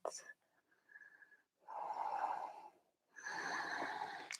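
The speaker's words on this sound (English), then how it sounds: "3 more breaths" Deep breaths during a gentle early morning yoga pose with the abdominal locks engaged, three loud breathy bursts separated by short pauses, close to the ear.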